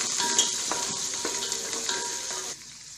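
Vegetables including onion and capsicum sizzle in a pan as tomato goes in, a close frying hiss with a few stirring scrapes, dropping off abruptly near the end.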